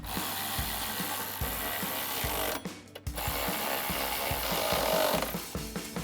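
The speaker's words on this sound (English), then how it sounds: "Now we can tighten down our pinch weld bolts using our 10mm wrench and our 10mm socket." A ratchet with a 10mm socket tightens pinch weld bolts on a Jeep Wrangler JL while side step bars are fitted. The rhythmic ratcheting clicks run close and steady, break off briefly midway, then resume, with no talking.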